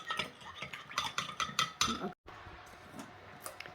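Bok choy being stirred in a pan with a utensil, quick scraping clinks of metal on the pan in an uneven rhythm, then a brief gap and softer stirring after it.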